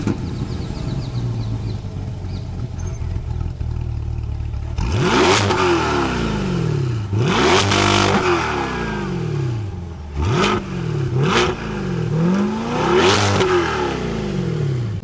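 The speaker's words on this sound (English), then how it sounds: "next to that, you get these massive exhaust tips that sound like this." A 2022 Corvette C8 Stingray's exhaust blips through a series of loud, close revs, a steady idle rumble first, then about five sharp rising-and-falling throttle sweeps.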